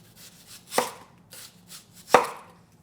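Onion being sliced very thin with a knife, two distinct blade strikes on a cutting board with soft slicing sounds between them, close and clear in a quiet room.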